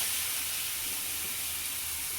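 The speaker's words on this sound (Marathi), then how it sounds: "तर आता मी हे पूर्ण बटाटा बारीक केलेले आणि हा याच्यात कढईमध्ये टाकून देते." Boiled, mashed potato goes into a hot kadhai of oil, giving a steady, even hiss of sizzling that holds without break, close by and moderate in level.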